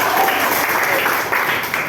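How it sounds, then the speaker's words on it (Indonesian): Short burst of steady group applause from a classroom, a dense wash of clapping that continues evenly throughout. "Tepuk tangan untuk kita semua ya."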